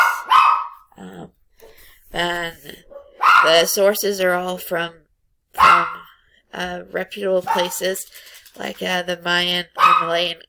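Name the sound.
dogs barking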